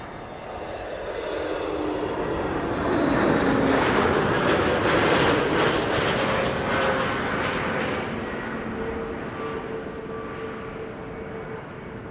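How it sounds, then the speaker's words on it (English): An Airbus A321neo jet roars past at Amsterdam Schiphol Airport on a sunny day, a broad engine rush building to a loud peak and then easing off, with faint tonal whines and no voices. "One of their A321neos."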